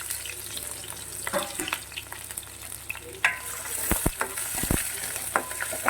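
Ingredients for a lime and dates pickle fry over a medium flame in a pan, giving a steady sizzle with occasional scraping stirs and a few sharp clinks, close and moderately loud with no voices.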